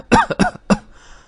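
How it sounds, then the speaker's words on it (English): A man's harsh, wet cough, three sharp bursts in quick succession and then fading, heard up close in a quiet room. "How long have you had that cough?"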